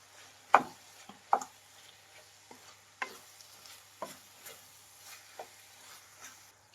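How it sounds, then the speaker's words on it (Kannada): A spoon stirs spices such as roasted cumin powder into capsicum palya cooking in a pan. Scattered scraping taps come close by at uneven intervals over a faint sizzle, with no talk. "ಮಿಕ್ಸ್ ಮಾಡಿ."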